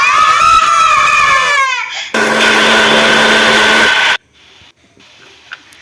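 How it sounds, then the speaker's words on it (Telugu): A mixer grinder whirs loudly, its motor pitch rising and shifting, then runs in a second harsh burst before cutting off abruptly into near quiet. "ఇప్పుడు మోత్ తీసుకొని కొంచెం వాటర్ యాడ్ చేసి మళ్ళీ మిక్సీ పట్టుకుందాం"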